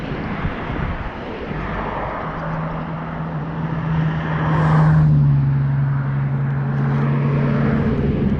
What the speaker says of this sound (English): These cars over here decide to try to see how close they can get to somebody